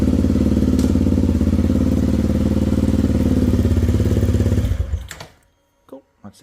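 Honda CRF250L motorcycle engine running at a steady, loud idle close by, a rhythmic thumping that cuts off abruptly near the end, followed by a few faint clicks.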